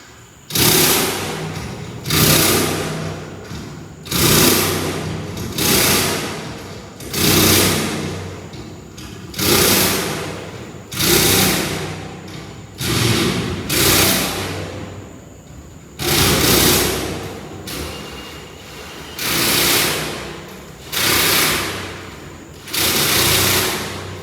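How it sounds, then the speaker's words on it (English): A power tool tightening bolts on a Quonset hut roof, running in about a dozen regular bursts of a loud whirring motor, each one rising and then cutting off, with short pauses between. "tightening up every single bolt in the roof"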